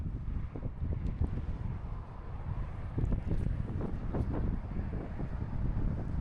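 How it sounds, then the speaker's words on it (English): Wind gusting near the Hardanger Glacier in Norway, roadside in the mountains, buffeting the microphone with a steady low rumble that swells and eases throughout, with no voices. "it's a little bit windy."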